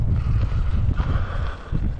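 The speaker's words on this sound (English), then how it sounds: "That's what makes it feel cold, is the wind. Wind is wicked." Strong wind gusts batter the microphone outdoors in sub-zero cold, a steady roaring rumble with surging swells and no voices.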